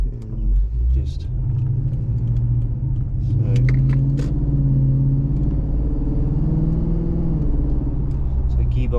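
Steady engine rumble from a 2010 Lexus IS F with a new ECU tune, driving on the road and shifting firmly into third gear, heard from inside the cabin under continuous talk.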